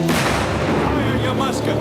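A gun fires on command during a historical drama's drill scene, a loud, dense blast of gunfire filling the short moment with a sustained rumbling roar.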